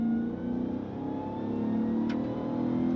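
A 2027 RAM 1500 TRX engine revs up close as the throttle is pressed, a rising mid-pitched growl with a steady throaty hum underneath and no voices.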